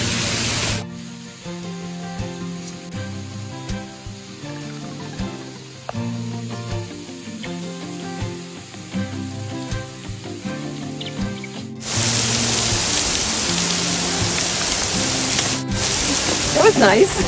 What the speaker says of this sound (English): It's like rain, but we're under the waterfall.